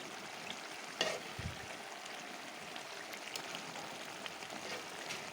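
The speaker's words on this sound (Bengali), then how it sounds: "একটু নাড়া দিব তারপরে ঢেকে দেব একটু একদম তেলের উপরে পোড়া পোড়া হবে" A vegetable curry fries in oil in a pan, giving a soft continuous sizzle with a brief clank of stirring near the start.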